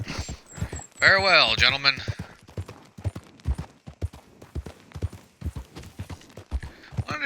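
Horse hooves clip-clop at a steady walking rhythm in Red Dead Redemption 2, with a voice speaking over part of it and the regular hoofbeats continuing throughout.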